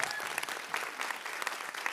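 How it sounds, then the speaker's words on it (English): A conference audience claps for panelists at the close of a session, giving a brief burst of crowd applause with some individual claps standing out. "How about a round of applause?"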